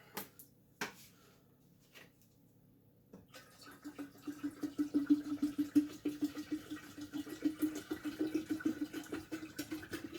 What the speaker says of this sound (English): then we'll put some water in it and see where that takes us